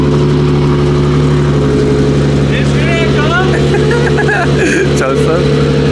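A BMW G80 M3, tuned to around 800 horsepower, rumbles loudly up close with a steady low engine drone and rising, warbling rev sweeps late on, mixed with other noise.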